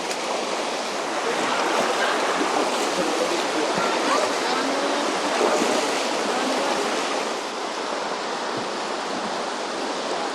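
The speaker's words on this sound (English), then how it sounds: "Waterfall!" Continuous broadband rush of a waterfall in Zion National Park, steady and full, with a speaking voice over it.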